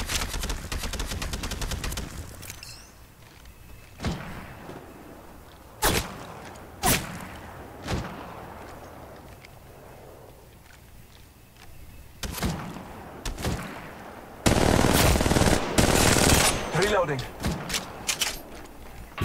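Scattered gunshots and bursts of fire in Apex Legends Mobile, sharp isolated cracks spaced apart, then a louder sustained volley near the end, with voices speaking in between.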